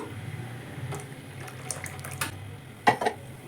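Water trickles and splashes softly into a mixer jar of ground ration rice batter, faint and uneven, with a couple of brief louder gurgles near the end.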